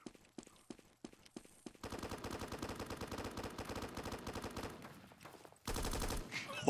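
Rapid automatic fire from an AUG A3 rifle in the Roblox game Blackhawk Rescue Mission 5: a few single shots, then long sustained bursts that briefly ease before a final loud burst. The shots are close and sharp, with no talking over them.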